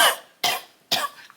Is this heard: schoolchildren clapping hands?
no